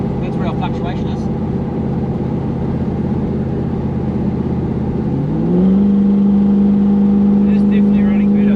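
A Toyota Hilux LN106 fitted with a 1UZ V8 idles steadily up close, then the engine note rises and settles into a higher, smoother drone partway through.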